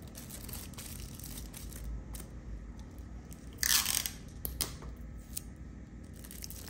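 Small plastic bag holding a brownie on a stick, closed with a piece of tape: steady crinkling and crackling of plastic, louder for a moment midway, close up over a quiet background.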